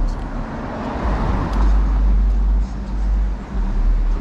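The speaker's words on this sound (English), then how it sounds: "wait a second so that car with the loud music can go by" Car passing on a San Francisco city street, a loud close engine and road roar that rises, holds and dips, with traffic noise around it and no clear music.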